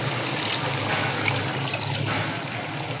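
Water poured steadily into a pot of one kilogram of soaked rice for chicken pulao, a continuous close trickling and splashing that runs unbroken for the whole stretch with no talk.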